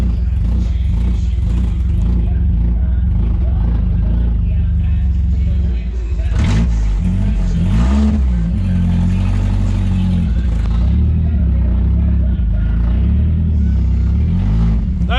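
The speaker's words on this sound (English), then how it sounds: "we're driving the winning car out of here" Winning demolition derby car driving out of the arena and up a hill, its engine droning loud and close with a swell of revving midway, while people talk and cheer over it.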